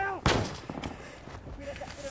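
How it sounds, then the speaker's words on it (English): Combat gunfire on a rooftop, with one loud close shot near the start followed by scattered fainter shots and crackle, while shouting voices are heard around it. "We've still got shots coming in."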